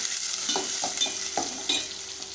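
A small chopped onion fries in hot oil, a steady sizzle broken by a handful of scraping stirs, close up and without any voices.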